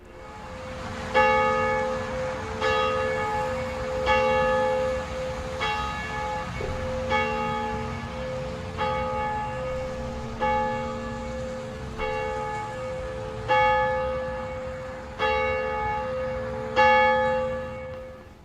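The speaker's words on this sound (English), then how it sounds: "I believe we are going to ring the church bell now." A single church bell tolls slowly and steadily, about one strike every two seconds, each ring lingering as it fades, with no voices.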